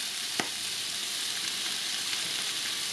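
Shrimp fry in a pan with golden garlic, giving a steady, even sizzle with a few small pops and crackles.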